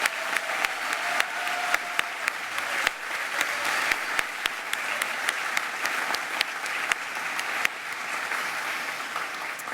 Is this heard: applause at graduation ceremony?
yes